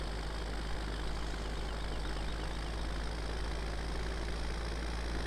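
Tractor engine in the video game Farming Simulator 17 idling steadily, a constant low, rumbling drone with no breaks and no one talking.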